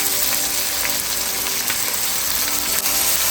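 Diced tomatoes and a jalapeño hitting a hot frying pan for palak chicken curry, giving a loud, continuous, close sizzle with faint clicks and scrapes throughout.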